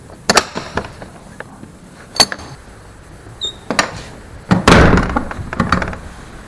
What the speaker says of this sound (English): So we'll open the door.